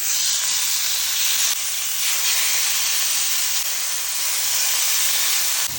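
Moose steak sizzles hard in a pan of hot olive oil and butter, a loud, steady, close hiss that runs unbroken with no voices over it.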